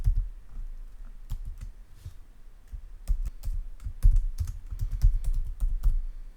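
Typing on a computer keyboard, fast irregular bursts of crisp key clicks, close up and alone, growing busier and louder toward the end.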